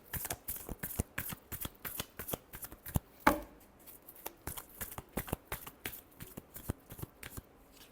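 Tarot cards are shuffled by hand in a steady run of crisp riffling flicks and taps, close and fairly quiet, with one sharper slap partway through and no talking.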